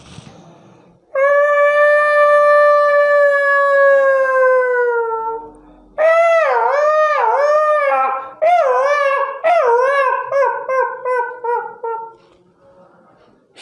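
A man imitates a jackal with his voice. A long, sustained howl is followed by a run of wavering, yelping howls that fade toward the end. The calls are close and loud, with no other talk.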